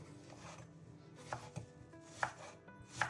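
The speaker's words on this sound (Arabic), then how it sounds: "عندنا بصله كبيره هنقطعها عندنا على شكل شرايح كده جوليان" A large onion being chopped into thin julienne slices on a board, with a handful of sharp knife strikes spaced irregularly, the last two loudest and close by, over quiet kitchen background.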